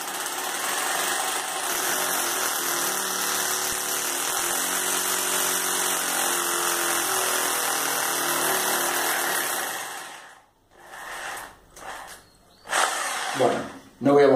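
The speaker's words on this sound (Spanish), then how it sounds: "Perforamos la pared, procedimiento es igual." Electric drill without hammer action boring into a wall to mount a Lift 240 clothes rack, a steady high whine for about ten seconds, then stopping among brief handling noises.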